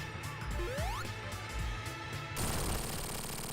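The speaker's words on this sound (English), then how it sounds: "I love the plane crashing sound effect too" A cartoonish plane crash effect from Sonic Mania: rising, sweeping electronic tones and thumps give way to a sudden burst of harsh noise that lingers to the end.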